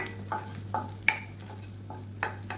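Garlic and ginger sautéing in butter in a pan over gentle heat, with soft sizzling and a few scattered stirring scrapes and clicks, quiet and close.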